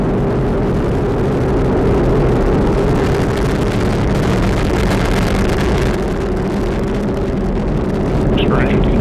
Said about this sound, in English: Booster engine continues to look very good.